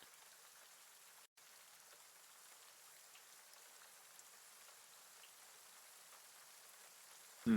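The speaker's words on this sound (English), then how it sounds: "Fish, you gotta be careful with these rain sounds." Steady, soft rain ambience plays during a tabletop role-playing game session, a continuous even patter of drops on a surface with no talk over it, and a brief louder thump right at the end.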